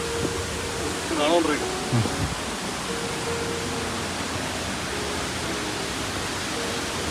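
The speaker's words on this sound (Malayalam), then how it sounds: "മാർമല വെള്ളച്ചാട്ടം." The Marmala waterfall in Kottayam, Kerala, gives a constant broad roar that runs through the whole clip, with a brief voice and a whistle-like call heard faintly over it early on.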